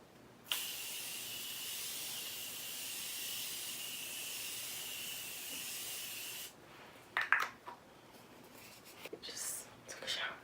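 A can of matte setting spray releases one continuous, even hiss for about six seconds, quiet and close, then stops and gives way to light rustling and soft handling sounds.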